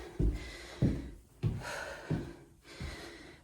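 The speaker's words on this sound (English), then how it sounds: "Definitely heavier breathing as I'm" Heavy, deep breaths come close to the mic from someone climbing stairs before lung surgery, an even series of about five labored inhales and exhales with no talk.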